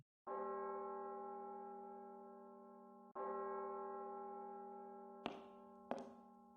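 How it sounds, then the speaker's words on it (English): A large bell is struck twice, each toll ringing out steadily with a long fading hum, followed by two sharp knocking hits near the end, with no voices. "That bell sounded like it was farther away than it should have been."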